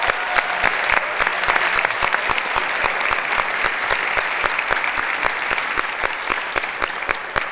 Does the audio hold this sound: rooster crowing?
no